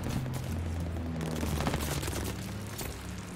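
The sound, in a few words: gunfire in the video game Call of Duty: Vanguard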